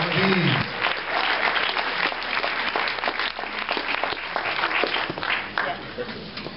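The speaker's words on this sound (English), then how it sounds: "Another round of applause for Mr. Congeniality, Anthony Galaviz." A large audience applauds steadily, a dense, sustained wash of clapping that holds at an even level throughout.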